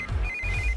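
A telephone rings with a steady electronic trill, close and clear over a low background hum.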